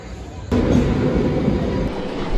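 An AC local train at a station, a loud steady rumble of rolling cars that starts abruptly and continues close by, with no talk.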